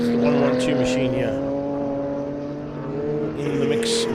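A race car, the number 112 machine, roars past at a circuit during a festival race, its engine loud and sustained with shifting pitch, while a commentator talks over it.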